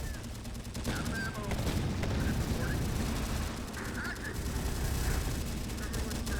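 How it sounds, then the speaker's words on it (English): Sniper and other gunfire in the video game Terminator: Dark Fate rattle and boom over a dense battle background, with people talking over the continuous combat noise. "Oh, the technician just took a hit from a sniper."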